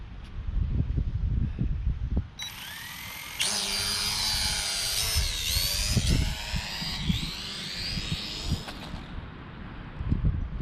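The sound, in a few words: Eachine E520 drone flying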